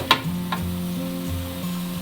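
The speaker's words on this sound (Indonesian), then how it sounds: "kita tambahkan 250 ml air panas atau sekitar 1 cangkir" Seasoned beef sizzles steadily in a hot pan as hot water is poured in, a continuous frying hiss with a couple of sharp clinks of a utensil against the pan near the start.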